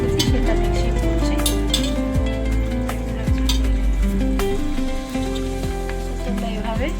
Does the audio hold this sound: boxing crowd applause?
no